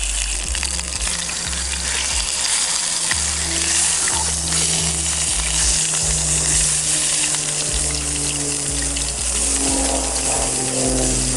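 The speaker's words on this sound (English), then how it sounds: "Now we just flipped it over to the other side, continuing to move some of the sesame oil around." Beef short rib sears in sesame oil on a camp stove, a loud, steady sizzle and crackle of frying fat that continues without a break.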